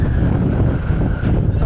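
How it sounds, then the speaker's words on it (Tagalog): Strong, gusty wind on a rainy day near the sea, a steady broad rush buffeting the microphone with continuous low roar and no pauses. "At sobrang mahangin."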